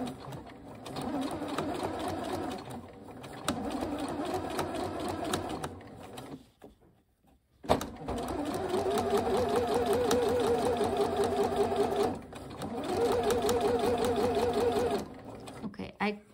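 Sewing machine back stitching while sewing an invisible zipper, running in steady whirring bursts separated by short stops and a brief near-silence, with a voice talking over the motor noise.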